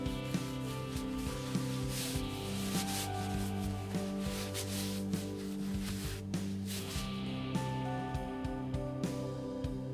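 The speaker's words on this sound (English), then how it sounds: "After waiting a few hours, it's time to buff off the excess oil." A rag rubs excess oil finish off a guitar neck by hand, a soft continuous scrubbing that runs the whole time, faint and close, over a steady low background hum.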